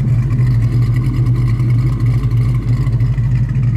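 A cammed, untuned Mustang with Bassani mid-length headers, a catless X-pipe and a Bassani catback with unbaffled tips, its engine running loud and close in a deep, steady, throbbing rumble that never lets up.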